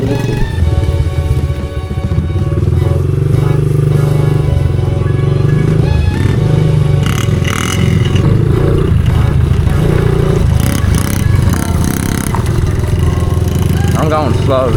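A small pit bike motorcycle, an Atomic 70 or Honda CRF50F, rides along with a loud, steady buzzing engine and some clatter and revving, heard close up with voices talking over it.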